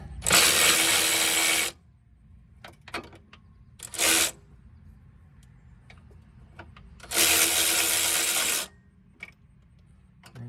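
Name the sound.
electric impact gun tightening a bolt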